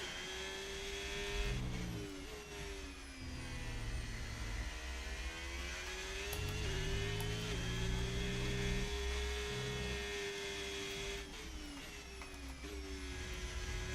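An Audi race car's engine in the F1 25 video game at Las Vegas runs on hard tyres. It whines continuously, rising and falling in pitch through gear changes and revs, with a steady hum beneath and no talk.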